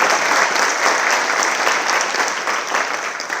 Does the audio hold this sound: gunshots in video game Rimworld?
no